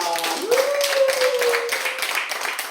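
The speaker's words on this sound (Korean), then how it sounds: "뜨겁게 박수하겠습니다." Korean church congregation clapping warmly during a Sunday service, quick dense handclaps from many people that run throughout, while a sustained sung or spoken voice tone rises and holds over the first half.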